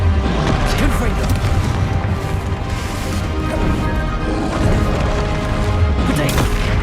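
The Confringo fire spell goes off in Hogwarts Legacy as loud crashing blasts and booms in quick succession, with a voice speaking over the clamor.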